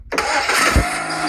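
A car engine cranks and catches in the video game Emergency Hamburg on a Paris roleplay server, bursting in loudly after a brief silence and settling into a steady running roar.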